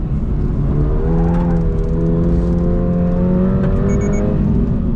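A 2024 Subaru BRZ tS engine revs high under hard driving, a loud, steady drone whose pitch climbs and holds throughout, with no voices.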